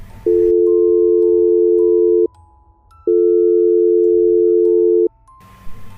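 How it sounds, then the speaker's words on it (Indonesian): Two long, steady telephone tones after a call cuts off, each about two seconds, separated by a short gap, sounding loud and clear against faint background noise. "panggilan itu sepertinya terputus dan kemudian nadanya berubah"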